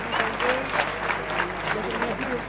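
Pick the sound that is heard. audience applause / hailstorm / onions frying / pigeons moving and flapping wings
audience applause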